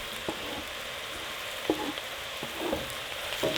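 Roasted sweet potatoes go into a pan of frying onions, producing a steady moderate sizzle broken by a few scraping stirs and soft clatters.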